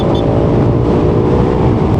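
A Yamaha Lexi 155 scooter engine at full throttle, a loud, steady buzzing drone with constant intensity, close and uninterrupted.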